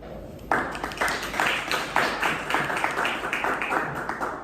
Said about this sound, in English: Let's show some drum rolls and applause for the speaker here.